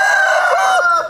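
A Pama crossbreed rooster crows once, loud and close, a single rising-then-falling call lasting about a second with nothing else heard.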